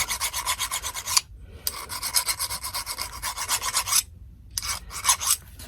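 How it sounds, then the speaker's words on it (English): A Noga deburring knife scrapes metal in quick, repeated rasping strokes, loud and close, running in three bursts separated by short silent pauses. "the more appropriate tool is called a deburring knife"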